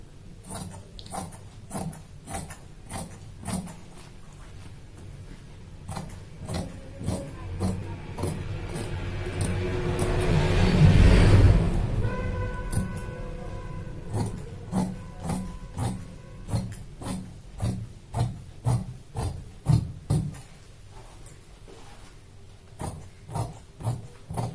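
Scissors cut through shirt fabric in a steady series of crisp snips, each close and distinct, with a louder rustling swell of cloth being handled midway.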